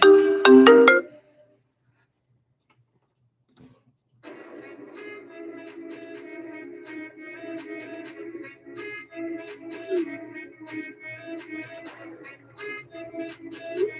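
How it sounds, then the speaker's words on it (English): A phone ringtone for an incoming video chat call plays as a steady, loud melodic tone for about ten seconds after a brief burst of other sound and a pause of silence. "my brother tried to video chat me"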